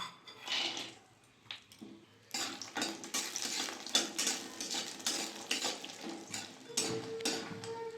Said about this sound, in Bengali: কড়াইয়ের মধ্যে সর্ষে তেল দিয়ে দিয়েছি এখানে বড়ি নিয়েছি বড়িটা ভেজে নেবো